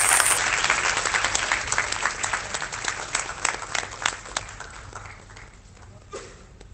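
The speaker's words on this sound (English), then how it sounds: "Please give us very big round of applause." A hall audience at a conference inauguration session gives a round of applause, dense clapping starting strong and gradually thinning out toward the end, with a few scattered claps lingering.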